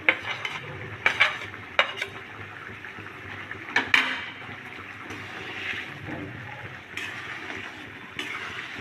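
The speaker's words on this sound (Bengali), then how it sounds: "এরপরে ভেজে রাখা চিংড়ি মাছগুলোও দিয়ে দেবো।" Fried prawns stirred together with potatoes in a pan for a Bengali prawn-potato curry, with several sharp spatula scrapes and clinks against the metal over a soft, steady cooking hiss, fairly close and with no voices.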